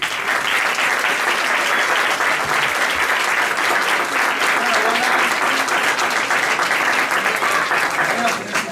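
Sustained audience applause for the young performers of a local music band programme, dense and steady, loud throughout with no break, accompanied by some faint speech.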